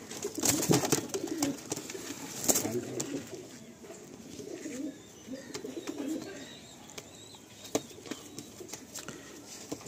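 Madrasi pigeons coo softly close by after release, with scattered wing flaps and small rustles over a low outdoor hum.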